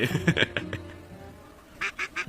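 A swan in a Bengali fairy-tale cartoon honks in short nasal bursts, first a rapid cluster of several calls, then a pause, then three more evenly spaced honks, fairly close and clear with no talk over them.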